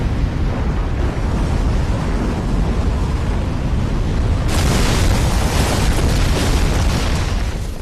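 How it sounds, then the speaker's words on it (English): A loud explosion in the video game Ninja Gaiden Sigma 2: a dense, sustained roaring blast that swells and brightens about halfway through, then rumbles on steadily with no talking. "And now you've built up into an explosion."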